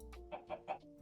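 Chicken clucking in the video game StoneBlock 17: three short, quiet clucks in quick succession over a low steady hum.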